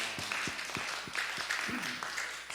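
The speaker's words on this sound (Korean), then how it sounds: "박수!" Church revival congregation claps in time, a short run of evenly spaced, moderately loud claps with faint voices mixed in.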